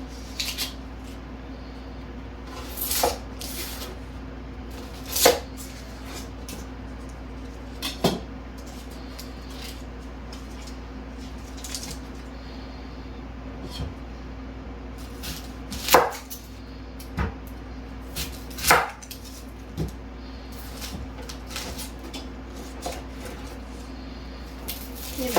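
A knife chops through strong onions on a cutting board, sharp scattered strikes at an irregular pace over a quiet steady background hum.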